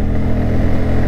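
A Bajaj Pulsar N160 motorcycle accelerates on pickup, its engine giving a loud, steady, close drone with no voices over it.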